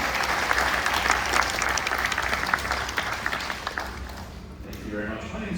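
An audience at a glassblowing demo show at the Corning Museum of Glass in Corning, NY breaks into sustained applause, a dense wash of clapping that fades toward the end.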